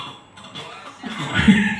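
Someone coughs after drinking Zamzam water during an umrah lesson, with a few faint, brief sounds early on and a louder cough burst near the end.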